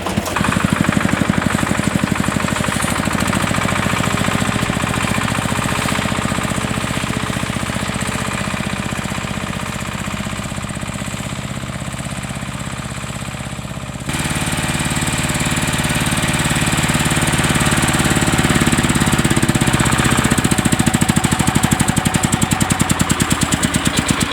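A tractor engine drones steadily while pulling SF 240 harrows across a damp spring field, a loud, constant knocking rumble that shifts slightly in tone partway through, with no voices.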